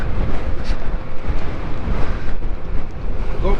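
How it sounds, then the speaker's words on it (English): Wind buffets a GoPro camera microphone during a motorcycle trip into Morocco, a loud, constant low rumble with gusty swells and no clear pauses. "It's windy."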